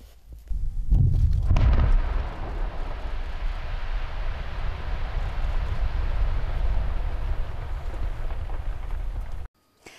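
Explosive charges detonated in a river go off in a loud, deep burst that rolls into a sustained roar of falling water and debris lasting several seconds before cutting out.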